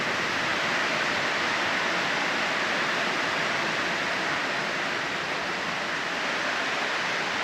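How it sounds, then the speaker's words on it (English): Heavy rain pours down in a thunderstorm at a country pub campsite, a loud, unbroken hiss that stays even throughout with no pauses. "It's pouring, there's lightning, there's thunder"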